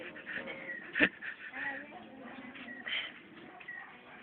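A dog whimpers and yips in short bursts, with shuffling and a sharp thump near the middle, all fairly quiet.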